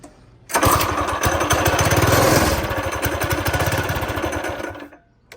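A Coleman BT200X mini bike engine fitted with a Nibbi PE22 carburetor roars up suddenly, chugging and revving loudly close by for several seconds before cutting out, no voices.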